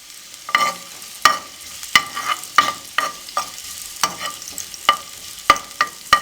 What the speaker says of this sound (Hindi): अब इसमें हम कटा हुआ लहसुन डाल देंगे। अब इसको अच्छे तरीके से भून लें।